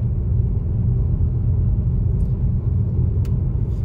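A car driving on snow in Utah's Uinta Mountains, a steady loud low rumble of engine and tires heard from inside, continuous with no talk and only faint brief clicks.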